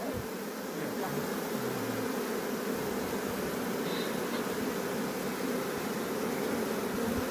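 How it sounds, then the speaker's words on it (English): A honeybee swarm at the hive entrance in a forest garden, with bees fanning pheromones: a dense, continuous buzzing hum of many wings, close and steady throughout. "you can see the welcome bees fanning out those pheromones"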